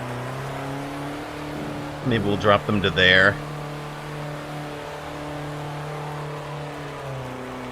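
Car engines in a racing video game hum as a steady, even drone throughout, with a person briefly talking over them partway through.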